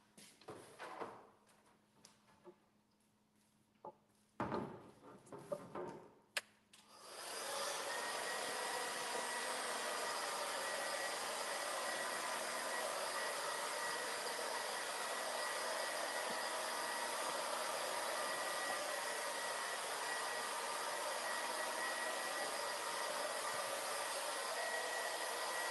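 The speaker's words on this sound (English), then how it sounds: "I'm going to do a quick blow dry on this so I can add my flowers on." A hair dryer blow-drying craft acrylic paint: after a few handling knocks and bumps, the dryer switches on and runs as a loud, steady, close whoosh that continues unbroken to the end.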